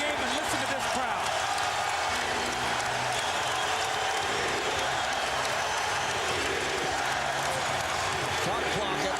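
Loud, dense roar of a basketball arena crowd cheering for the 76ers at home in Philadelphia during Game 3 of the 2001 NBA Finals against the Lakers, sustained throughout with faint court sounds and talk beneath.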